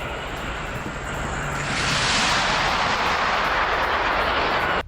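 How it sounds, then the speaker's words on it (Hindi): An Iranian missile comes down near the Haifa oil refinery in Israel: a dull rumble gives way after about two seconds to a heavy, sustained roaring blast that stays loud to the end, with no voices. "देखिए कैसे हाइफा रिफाइनरी के पास ईरान की मिसाइल गिर रही है"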